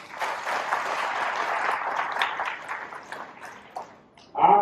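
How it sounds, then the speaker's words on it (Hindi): An audience applauds for Gopal Bhai Sukriya at a talk to farmers in Uttar Pradesh. Dense clapping holds steady and then thins out, and a brief sharp ringing sound cuts in at the very end. "एक बार इनके लिए तालियां।"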